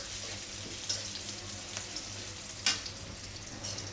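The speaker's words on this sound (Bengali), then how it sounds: "বড়িটা দিয়ে একটু ভাজা ভাজা করে নিয়ে দিয়ে দেব পেঁপে আর লাউটা।" Lentil dumplings (bori) fry in oil in a pan, a steady close sizzle with a few sharper crackles and a stirring clatter now and then.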